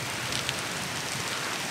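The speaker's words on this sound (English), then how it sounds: "it's raining pretty good." Heavy rain pours steadily at Disney's Boardwalk Resort, a dense, continuous hiss of drops close to the microphone with no break.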